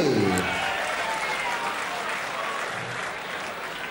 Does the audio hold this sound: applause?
yes